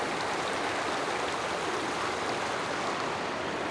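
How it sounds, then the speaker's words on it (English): Water pours off Lower Lyman Lake and runs down a valley in Glacier Peak Wilderness, a steady, full rushing stream heard up close and unbroken. "Right here is where lower Lyman Lake pours off and runs down the valley."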